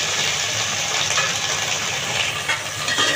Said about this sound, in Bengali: এভাবে কিছুক্ষণ নেড়ে ছেড়ে ভেজে নেবে